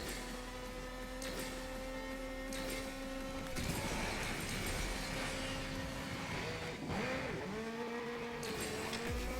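A McLaren Elva in a racing video game holds a steady, whining engine drone, with pitch shifts and gear changes around the middle and again near the end. It is continuous and fairly loud, with no talking.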